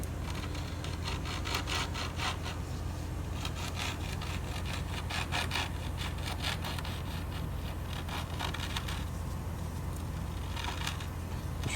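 Emery cloth rubs rust off a Polaris Razor brake part in rapid repeated back-and-forth scraping strokes, close and loud, with brief pauses between bursts.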